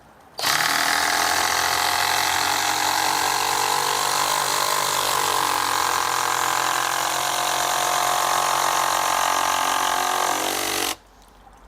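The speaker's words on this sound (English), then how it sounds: "now normally I would not drive big screws like that with a hydraulic impact driver" A Hikoki hydraulic impact driver sinks a big 10-inch screw in one long, loud, steady run of dense whirring and hammering that lasts about ten seconds, then stops abruptly.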